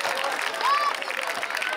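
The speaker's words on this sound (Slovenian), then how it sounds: "Gremo velik aplavz za prvi B." Audience applause for first-year class 1B at a school freshman initiation event in Šentvid, 2021: dense, steady clapping from a crowd that holds at an even level throughout.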